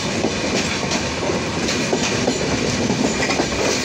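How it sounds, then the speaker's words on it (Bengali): Rajshahi–Dhaka Dhumketu Express passing close by in Bangladesh, a loud continuous rush of wagons with rhythmic clickety-clack of wheels over rail joints and no voices. "রাজশাহী ঢাকা কোন ট্রেন হতে পারে? এত সকালে ধূমকেতু নাকি?"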